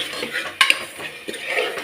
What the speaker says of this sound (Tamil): அதோடையே சிக்கனையும் போட்டுக்கிறேன்.